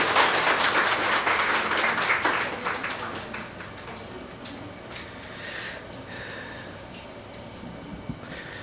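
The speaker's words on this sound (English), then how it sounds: "Round of applause," Audience applause at a library association's annual general meeting welcoming a speaker, loud clapping from a crowd that peaks at the start and gradually thins to scattered claps.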